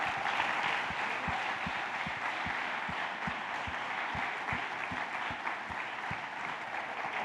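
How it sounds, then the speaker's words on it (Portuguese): A church congregation applauds steadily, dense continuous clapping with a few sharper distinct claps, sustained and fairly loud throughout with no pause. "Eu queria um grande aplauso a Jesus por essa equipe de mulheres dessa casa."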